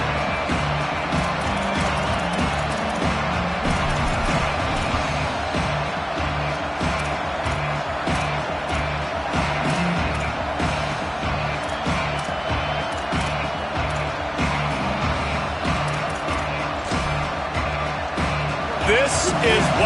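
A dense football stadium crowd at a Sooners game roars steadily throughout, a constant wall of cheering noise, with a play-by-play announcer talking over it.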